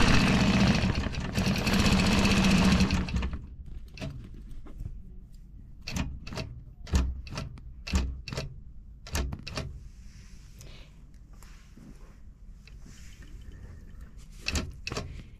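A Butler long-arm quilting machine starts with a steady mechanical whir, then settles into a series of sharp, evenly spaced stitching clicks and thumps as it sews tie-off stitches and a point-to-point design.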